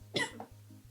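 A single sharp cough from a sick young woman, close and fairly loud, followed by a softer second cough over a low steady hum.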